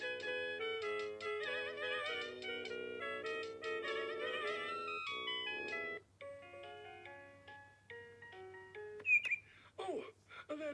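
Bird song sound effect from a vintage VTech Winnie the Pooh musical activity centre toy: a bright electronic melody of tones, then chirpy whistled bird calls with rising and falling sweeps, played alone and moderately loud.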